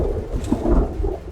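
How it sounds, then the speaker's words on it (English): Low, heavy thunder rumbling over steady rain in Project Zomboid, a brief, loud, deep roll without voices. "Thunder started to roar as he deposited the third piece of the table"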